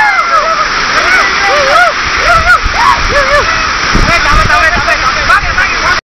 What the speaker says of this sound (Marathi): आणि पाण्याचा फ्लो खूप जोरात आहे.